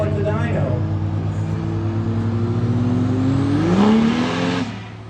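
A diesel truck engine on a chassis dyno during a callout challenge, a loud sustained drone climbing steadily in pitch to a peak before cutting off, with voices talking over it.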